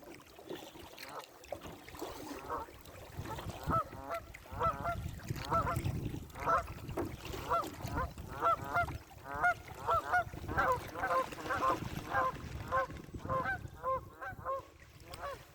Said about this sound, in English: the geese don't give a shite, and them two ducks really don't care